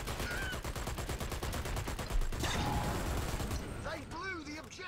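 Rapid bursts of automatic gunfire in the video game Dirty Bomb rattle continuously and loudly, then fade as a voice speaks near the end.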